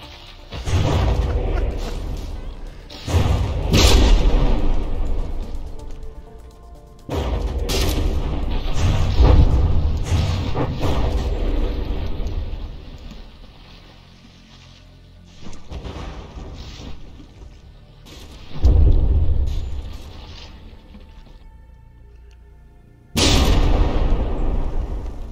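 Heavy battleship guns boom and shells burst in repeated deep blasts during a battleship brawl in the game From the Depths, with loud rumbling impacts coming in bursts separated by quieter stretches.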